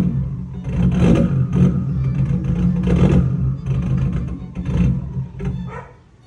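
A Nissan Skyline engine parked outdoors, struggling near stall and revved by pressing the throttle to keep it idling, with repeated swelling rev bursts over a rough, loud low rumble.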